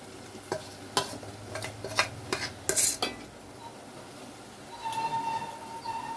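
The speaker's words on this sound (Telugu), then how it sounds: "ఇప్పుడు కలిపి పెట్టుకున్న నెత్తళ్ళను దీనిలో వేసేస్తున్నాను." Anchovies (nethallu) tipped into a pan of fried ginger garlic paste and stirred, with soft sizzling and a few sharp clinks and scrapes of a spoon against the pan, fairly quiet, no talking.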